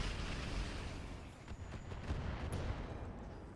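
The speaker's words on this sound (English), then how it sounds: "It was one missile. It did it. Ammo explosion." An ammunition explosion in the mech strategy game RogueTech, modded BattleTech, a dense rumbling roar of blasts and crackling detonations that stays loud and continuous throughout.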